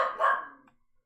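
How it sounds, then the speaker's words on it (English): A dog gives a single loud, close bark that trails off into a short fading tail, heard alone with no talking. "damn dogs"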